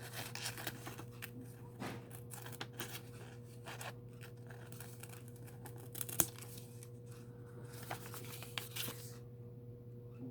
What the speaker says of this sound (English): Bring in a pair of scissors.